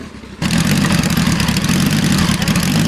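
An engine starts up after a brief quiet moment, then idles steadily and loudly while warming up to its operating temperature of about 80 degrees, with a dense, even running note throughout.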